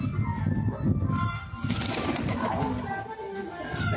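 Pigeons of an old desi breed kept on the ground, giving soft low cooing sounds close by over a steady background murmur.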